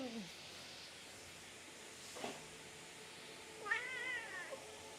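A cat meows faintly a few times, short rising-and-falling calls spaced out over a quiet room background, the last one the clearest.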